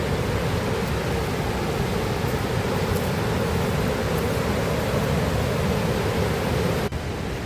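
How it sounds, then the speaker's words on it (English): A waterfall along a Wisconsin trail gives off a steady, close, full-bodied roar of rushing water that holds constant for several seconds before a brief break near the end. No one speaks. "checking out all the waterfalls along this whole trail"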